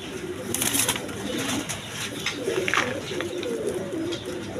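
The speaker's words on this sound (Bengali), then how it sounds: "এখানে এক পেয়ার লাহোরি কবুতর আছে আপনার" A pair of red Lahori pigeons coo repeatedly at close range, low rolling calls overlapping, with faint background chatter and bird noise around them.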